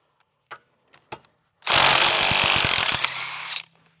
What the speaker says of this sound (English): let's see if the old impact gun will have enough oomph to get these off